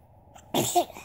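A single small, sharp sneeze from a baby, close by, after a brief quiet moment and a faint breath.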